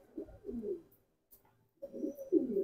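Jelly pigeons coo in two short bursts of low, throaty burbling, close and fairly clear, separated by a brief pause.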